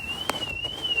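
A motorcycle alarm gives a steady high electronic tone that wavers slightly in pitch, with a sharp knock near the start and faint background noise.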